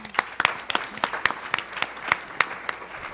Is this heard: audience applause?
yes